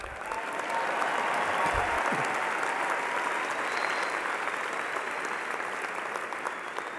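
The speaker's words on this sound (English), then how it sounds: "You're supposed to clap." Graduation audience at an engineering college ceremony clapping, a broad, steady wash of applause from a large hall crowd, fairly soft and sustained for several seconds with a few low thumps at the start.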